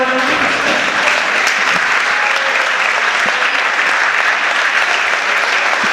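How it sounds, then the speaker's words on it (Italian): Sustained crowd applause for an Antenore Sport Padova futsal team after a match against Bissuola, a dense, steady clapping that stays loud and continuous throughout with no voices on top. "Ancora un forte applauso ai ragazzi dell'Antenore."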